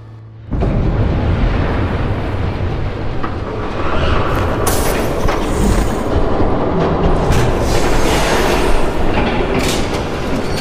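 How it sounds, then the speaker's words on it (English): A train approaches in Batman: The Telltale Series. The roar begins abruptly and stays loud and close, with heavy rumbling, clattering wheels and sharp metallic screeches and squeals rising through it. "There's a train coming."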